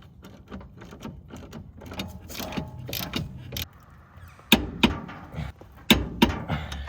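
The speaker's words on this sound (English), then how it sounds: "Good old Pittsburgh torque wrench." A Pittsburgh torque wrench tightens front suspension bolts on a Nissan 240SX, giving a few sharp metallic clicks and clanks close by, the loudest bursts clustered near the end over low shop noise.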